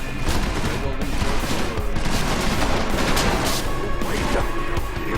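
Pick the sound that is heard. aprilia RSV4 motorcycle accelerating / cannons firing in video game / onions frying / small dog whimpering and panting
cannons firing in video game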